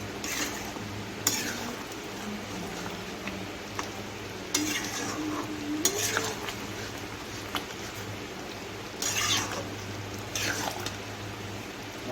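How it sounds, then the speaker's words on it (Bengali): Fried potatoes are stirred in a cooking pot with a spoon, giving intermittent scraping clatters and soft sizzling over a low steady kitchen hum. "তারপরে আলুগুলোকে আমি নাড়ছি"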